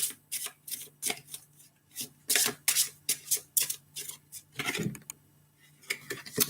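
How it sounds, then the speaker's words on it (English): A deck of tarot cards is shuffled by hand in quick, irregular bursts of crisp riffling and flicking, close and fairly quiet, with no talking. "I promise you, I am shuffling these cards"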